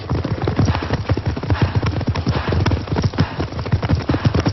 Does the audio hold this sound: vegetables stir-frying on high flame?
no